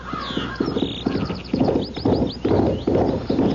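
Hooves of a filly clip-clop steadily in a radio drama sound effect, a close, even rhythm of hoof strikes with a faint whinny early on, no voices over it.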